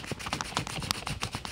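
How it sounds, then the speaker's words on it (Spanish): Sandpaper wrapped around a small wooden stick rubs quickly back and forth over the freshly cut end of a wooden branch, producing a soft, steady scratchy rasp close by. "vamos a lijar perfectamente."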